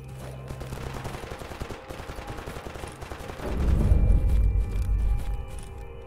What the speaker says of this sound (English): There's some shooting in the distance.